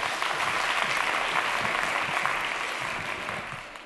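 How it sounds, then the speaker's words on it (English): Audience applause after a comedy set by a former police officer turned comedian, a dense steady wash of clapping that holds loud, then tapers slightly toward the end. "Have a round of applause"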